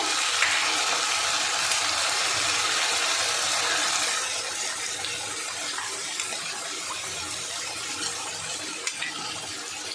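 Water pours into a pot of hilsa pulao as it cooks, making a steady close splashing rush that grows quieter midway and settles into a softer trickle with faint bubbling.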